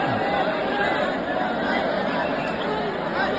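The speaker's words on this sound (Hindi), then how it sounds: "भक्तों की भारी भीड़।" Heavy crowd of devotees gathered at 4 a.m. near the Ambedkar statue in Gola Gokarannath on a Sawan Monday: a dense, steady hubbub of many overlapping voices, with no single speaker standing out.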